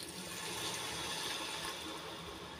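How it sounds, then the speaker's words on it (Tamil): Water poured from a tumbler into a pan of brinjal biryani masala, a steady broadband splashing and trickling that runs evenly throughout, close and moderately loud with no talking. "இப்போ 1 டம்ளர் அளவு வந்து தண்ணி சேர்த்துக்கிறேன்."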